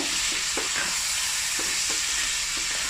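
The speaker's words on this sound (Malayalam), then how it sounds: "മസാല എല്ലാവർക്കും ആവുന്ന രീതിയിൽ ഇളക്കി കൊടുക്കുക" Chicken coated in masala fries in olive oil while being stirred, a close, dense sizzle with soft rhythmic scrapes of the spoon against the pan, heard alone without talk.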